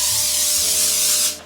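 A short, loud hiss of cooking spray is released into a small casserole dish in a kitchen, one continuous burst lasting about a second before tapering off.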